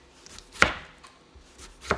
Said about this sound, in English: I'm going to slice up my tomatoes.